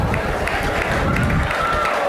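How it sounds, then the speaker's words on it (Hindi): An audience applauding to welcome a stage drama, Krishna Sudama, with steady, dense clapping and a murmur of crowd noise, moderately loud and continuous for a couple of seconds. "जोरदार तालियों से स्वागत करिए हम ड्रामा का"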